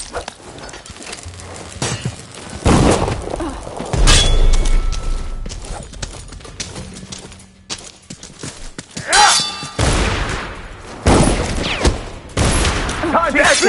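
Bursts of gunfire from guards in the video game Dishonored 2, loud volleys and booming shots arriving in several separate clusters, mixed with shouting voices and other combat noise.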